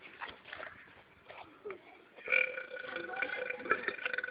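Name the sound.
burping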